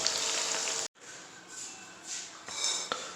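Dabo chicken sizzles steadily in a frying pan, a bright continuous hiss that cuts out briefly and then returns with gentle swells and a couple of small clinks.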